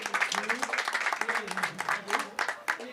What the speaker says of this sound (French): On peut les applaudir encore une fois.